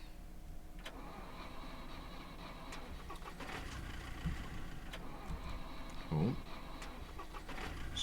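A car engine in the video game SCUM cranks and turns over, rising into a mid-pitched running rumble with a sputter near the end; someone speaks briefly over it.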